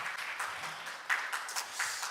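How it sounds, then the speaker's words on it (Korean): Attendees at a Gyeongsang National University startup-program funding briefing give themselves a round of applause. The clapping is modest and somewhat distant, with uneven bursts over about two seconds and no talking. "스스로 한번 박수 한번 부탁드리겠습니다"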